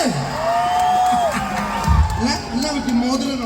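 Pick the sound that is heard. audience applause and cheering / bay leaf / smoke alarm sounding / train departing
audience applause and cheering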